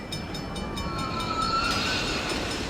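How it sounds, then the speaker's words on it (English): A mine train coaster ride in the Planet Coaster park-building game rolls along with a steady rail rumble and some high metallic whine, fairly close and continuous, with no talk over it. "the train makes a little whistle here, there for Outer Wilds Town, and now everything is ding ding ding ding ding ding ding until the crash"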